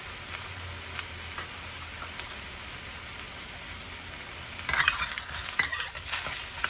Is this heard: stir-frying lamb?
yes